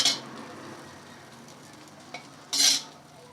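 Egg rice stir-fries over a high flame, a low sizzle under two bright scraping bursts of spatula against the pan, one at the start and a louder one near the end.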